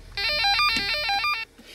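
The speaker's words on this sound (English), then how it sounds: "You can let people know you want to talk to them by pushing that button" A toy walkie-talkie's call button plays a bright electronic ringtone: a quick run of beeping melodic tones lasting just over a second, close and clear, with no talking.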